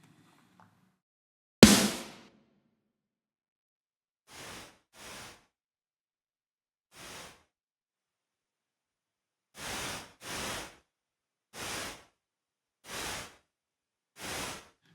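Bursts of white noise gated by a MIDI snare drum pulse in short hissing hits, one sharp loud burst followed by several softer evenly spaced ones separated by silence.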